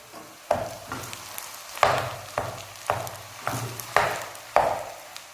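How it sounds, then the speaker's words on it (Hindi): Mashed potatoes sizzle in a pan while a spatula stirs and scrapes them at a steady pace, each push bringing a fresh burst of frying crackle. "जो हमने मैश करके रखे थे, उन्हें भी अच्छी तरह फ्राई कर लेना है।"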